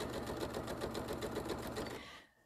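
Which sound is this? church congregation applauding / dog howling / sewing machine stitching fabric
sewing machine stitching fabric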